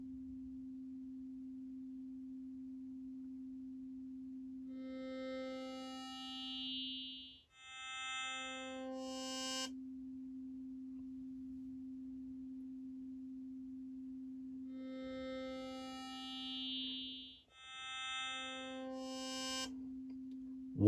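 ASM Hydrasynth synthesizer with oscillator 1 turned up: a steady low drone runs throughout while higher harmonic tones step in and out in two repeating phrases, loud and alone with no talking.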